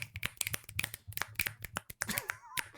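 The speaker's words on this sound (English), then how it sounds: "Probably shouldn't be snapping my fingers into the microphone." Fingers snap sharply and repeatedly right into a microphone in an irregular rhythm, with crisp close cracks and brief pauses. A faint voice murmurs near the end.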